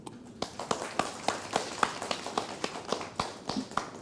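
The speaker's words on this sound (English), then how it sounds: "May I suggest we give a applause together to thank our guests for the wonderful chat today" An audience applauding to thank guests after an onstage fireside chat, a scattered series of claps heard fairly close, uneven and sparse rather than a full roar.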